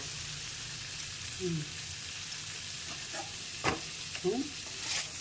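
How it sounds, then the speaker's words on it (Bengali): Raw banana curry fries in oil with spices, a soft continuous sizzle broken by a few brief scrapes and taps as it is stirred. "এখন এটাকে ভাজা ভাজা করবো"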